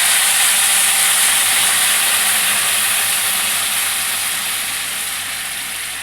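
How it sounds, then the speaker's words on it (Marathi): Hot water poured into a pan of vermicelli upma makes a loud, steady rushing sizzle and hiss, close up, slowly fading over several seconds with no talking. "हे गरम केलेलं पाणी आपण याच्यात घालायचं."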